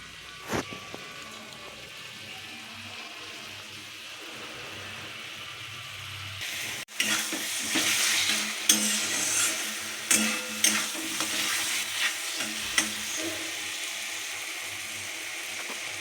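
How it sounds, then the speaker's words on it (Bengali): Potatoes, papaya and spices sautéing in a pan for a curry, a steady low sizzle that grows busier and louder about halfway through, with scattered clinks and scrapes of stirring. "এই যে ঝোলের জন্য আলু, পেঁপে সব কিছু আর মশলা দিয়ে একদম কষিয়ে নিচ্ছি।"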